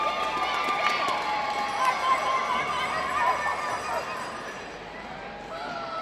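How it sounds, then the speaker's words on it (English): A roller derby crowd cheers and chatters at a Mad Rollin Dolls bout between Quad Squad and the Unholy Rollers, a sustained roar of voices with whistles and shouts that eases slightly near the end. "How many fans out there are cheering on the Unholy Rollers this evening?"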